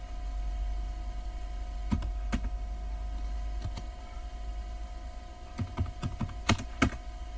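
Linux terminal commands typed on a computer keyboard, sparse quiet keystrokes at first, then a denser cluster of clicks near the end, over a faint steady hum.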